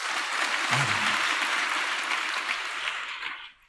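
Audience applause fills a church service congregation, a dense steady clapping lasting several seconds before tapering off abruptly at the end.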